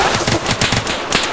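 Rapid automatic pistol fire from a Glock fitted with a switch in a video game set in South London, loud continuous bursts with no talking.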